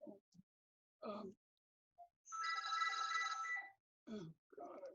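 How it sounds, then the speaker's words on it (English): A telephone rings once with a sustained, bright electronic trill lasting about a second and a half, close by, set between short bursts of a person talking and sighing. "Wait a second, I have to answer this damn phone."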